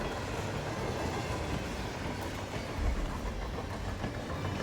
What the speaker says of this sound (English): Loud train.